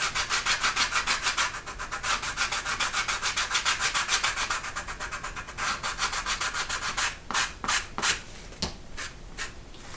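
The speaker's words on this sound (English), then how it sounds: "this 120 grit sandpaper and do like some rough sanding" Rough sanding of a leather wallet edge with 120 grit sandpaper gives rapid, rhythmic rasping strokes close up. The strokes run steadily, then slow into a few separate scrapes near the end.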